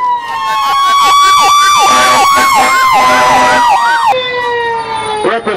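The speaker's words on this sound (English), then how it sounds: "I suppose there's a siren on that too, right?" Emergency management special operations vehicle siren at a county fair parade, loud and close, a rapid warbling wail cycling repeatedly before shifting to a steady tone near the end.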